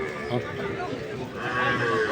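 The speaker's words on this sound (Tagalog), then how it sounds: "Pagkadaghan ng kalabaw." Water buffalo (carabao) at a crowded livestock stockyard, with low lowing calls and animal noise running under overlapping nearby talk throughout.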